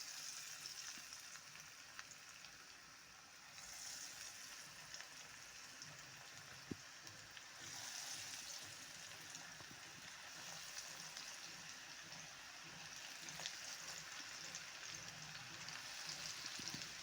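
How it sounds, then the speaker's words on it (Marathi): Taro and sweet corn pakoras fry in hot oil, giving a faint, continuous crackling sizzle with small pops, close by and steady throughout. "आता मी यात पकोडे तळून घेते."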